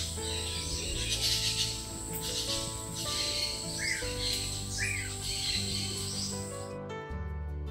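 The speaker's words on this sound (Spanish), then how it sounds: "te cautiva la sinfonía de las aves y los insectos" Birds and insects fill a Nicaraguan tropical forest reserve, with steady insect drone and scattered chirps and calls layered at moderate distance under a constant hum.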